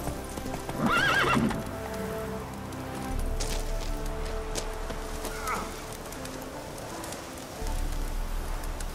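Horse in The Witcher 3 video game: hooves clip-clop in a steady trot while the horse gives a loud whinny early on, with ambient rain and faint birds around, close and without talk.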